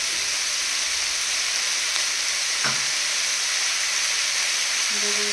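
Mutton seasoned with salt, turmeric and spices sizzles steadily in a hot pan, a loud continuous frying hiss with a brief clink partway through.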